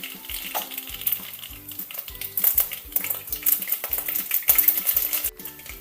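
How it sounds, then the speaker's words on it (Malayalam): Mustard seeds popping and spluttering in hot coconut oil in a pan, a busy crackling sizzle with irregular sharp pops throughout, loud and close. "നമുക്കതിലേക്ക് ഒരു സ്പൂൺ കടുക് ഇട്ട് പൊട്ടിക്കാം"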